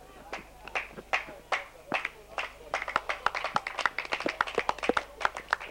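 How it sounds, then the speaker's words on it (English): At a 1988 second-grade grand final match, a small group claps in uneven, scattered bursts that thicken toward the end, fairly close by. "Bit of clapping, eh?"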